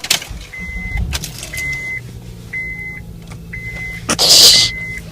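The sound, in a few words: car engine started and warming up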